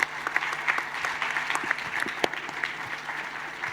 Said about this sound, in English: And a big round of applause for our moderators, our panel on stage.